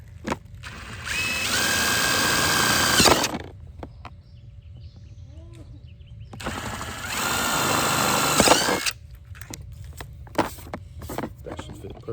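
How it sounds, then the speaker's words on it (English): A handheld power drill drills holes while a 3D printed prototype is being installed. It makes two loud, sustained whining bursts of about three seconds each, with a quieter gap between them and a faint voice near the end. "So I'll take the right drill bit."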